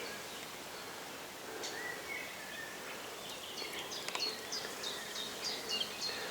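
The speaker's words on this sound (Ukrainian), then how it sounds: "Перші бджоли-розвідниці лазять по дереву." Faint, soft buzzing of scout honeybees crawling on a flowering buckthorn tree in a forest, with a few distant bird chirps and tweets toward the end.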